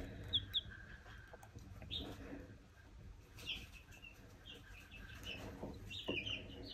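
Young roosters, a lavender Orpington and a copper Marans, let out scattered chirps and clucks, a few sharp calls spaced across a quieter background with some faint rustling.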